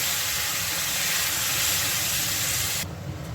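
Water hitting hot oil and spices in a pan for a curry-leaf fish curry gives a loud, continuous hissing sizzle that cuts off abruptly near the end, leaving a quieter bubbling.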